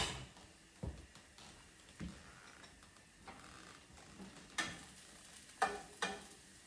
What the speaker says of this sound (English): so I'm going to put the garlic in my pan